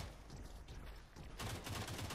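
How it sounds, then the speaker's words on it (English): A minigun fires in Blitz Brigade, a rapid buzzing stream of gunfire that starts after a short lead-in and runs steadily to the end, faint overall with no talk. "This thing is a minigun, right?"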